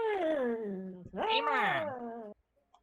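A person mimics cat meows with their voice, giving two drawn-out, wavering vocal meows in a row, loud and close, followed by a brief silence.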